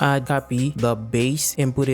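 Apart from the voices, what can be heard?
No everyday noises stand out.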